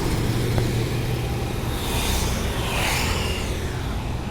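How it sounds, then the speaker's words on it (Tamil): A vehicle approaches fast toward a speed bump on a road, a steady broad engine and tyre roar that swells in the middle and eases off, loud and continuous with no talk. "வண்டி வேகமாக வர்ற வண்டி"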